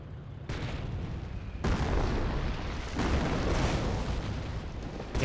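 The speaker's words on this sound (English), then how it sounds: "Incendiary mortar there, immolating the Piet commandos and the Captain" Incendiary mortar shells land in a World War II strategy game battle, a sequence of heavy booming impacts and rolling explosive rumble, loud and dense, separated by brief shifts in intensity.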